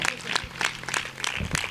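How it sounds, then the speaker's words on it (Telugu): Church congregation clapping loudly during a sermon, bursts of applause arriving in rapid waves with crowd noise throughout. "కొట్టు చప్పట్లు గట్టిగా"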